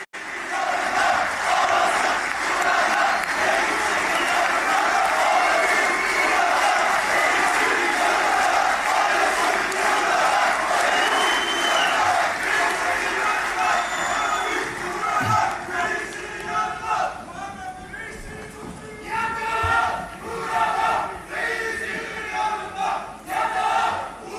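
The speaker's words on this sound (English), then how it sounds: "Turkey's president greeted with applause." A crowd at a party meeting greets Turkey's president Erdogan, loud sustained applause and cheering that later breaks into uneven bursts, with voices mixed in.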